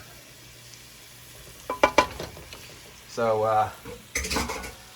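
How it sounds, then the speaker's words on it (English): A utensil scrapes and clinks against a pan while plant-based meatless bolognese sizzles quietly, with a few sharp metallic knocks and a brief spoken word. "now we're just gonna basically stir"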